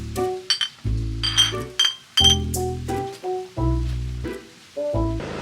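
Several bright glass clinks ring out in a toast amid clattering and knocking, a few sharp chimes scattered over a busy, close-up scene.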